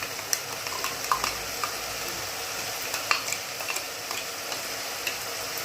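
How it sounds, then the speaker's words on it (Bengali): A spoon stirs bottle gourd with poppy seed paste and green chili in a sizzling pan, giving irregular scraping clicks over a steady close fry, no talking. "এবারে দেবো বেঁচে রাখা পোস্ত আর কাঁচা লঙ্কা"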